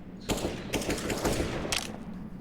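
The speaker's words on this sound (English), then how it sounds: "Shots fired. Just warning, shots for now." Counter-Strike gunfire from a pro match on Vertigo at IEM Cologne 2023 crackles in several quick bursts over steady crowd and game ambience, loud and dense for a couple of seconds.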